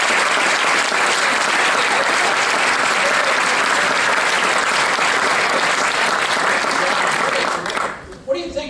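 Sustained audience applause from a studio crowd at a pitch-show taping, loud and steady for about eight seconds before thinning out at the end.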